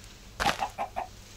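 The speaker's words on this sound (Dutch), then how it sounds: "want het zijn maar een paar stomme kippen natuurlijk." Chickens clucking in Minecraft, a cluster of three or four short, close clucks in quick succession with quiet background between.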